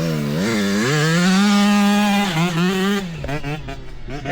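A young rider on a Talaria MX5 electric dirt bike produces a loud, close motor whine that climbs and holds steady, then breaks into rougher, choppier bursts near the end.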